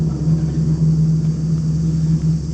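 Second truck in a convoy of about seven trucks passing on a quiet road, a steady low engine rumble with a strong hum, close and continuous, no talking.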